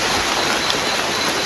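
Heavy rain falling, a dense constant hiss filling the whole short stretch at steady loudness with no pauses or voices.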